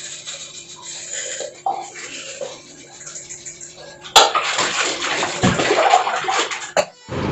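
Running tap water at a kitchen sink while dishes are washed, a quieter trickle that swells into a strong steady gush partway through, with dish clatter and sharp knocks.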